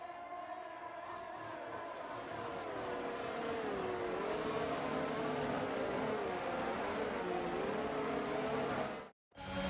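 F1 racing cars from F1 22 drone steadily through a formation lap, with sustained engine whine and gliding pitch changes from several cars, then a sudden brief cutout near the end.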